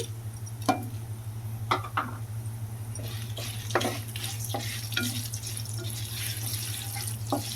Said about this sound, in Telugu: ఇవి వేయించుకుంటూ ఉంటున్నాం కదా ఇవి వేగుతూ ఉండగా ఎండుమిర్చి కూడా అయితే యాడ్ చేసుకుంటున్నానండి